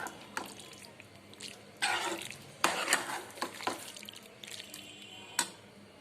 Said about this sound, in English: We have to stir them well so that the vegetables and pasta gets coated well with the sauce and absorbs all the flavors